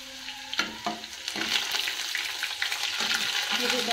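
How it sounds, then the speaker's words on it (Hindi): Chopped onion drops into very hot oil already seasoned with coriander, cumin and garlic, for a ridge gourd (lingad) curry, giving a loud, steady sizzle and crackle with a few scraping stirs, close up and with no talking. "तो ये देखिए, हम इसमें डाल दिया प्याज"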